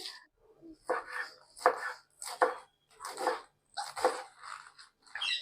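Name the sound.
chopping washed mustard greens finely for sarson da saag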